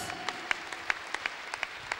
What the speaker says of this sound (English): Let us clap our hands for Jesus